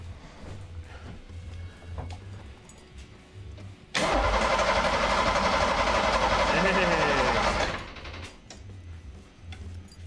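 A Ford engine cranks over with the key for about four seconds, a loud, close, rhythmic starter churn that begins abruptly after quiet background ticking and stops just as abruptly.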